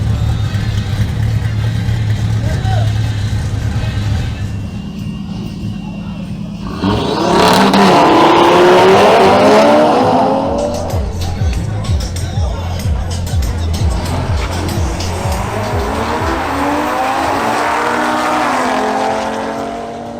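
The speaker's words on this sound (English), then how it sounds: "Next up to qualify are Andres Mejia in his BMW M440i xDrive versus Maria Estrada in her Audi RS3." A BMW M440i xDrive and an Audi RS3 launch in a drag race qualifying run, engines idling and then roaring as they rev hard through rising gear sweeps, loud and close over crowd chatter.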